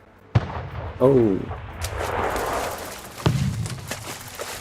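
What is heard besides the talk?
ship cannon fire in Anno 1800 video game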